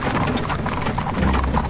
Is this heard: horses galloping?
yes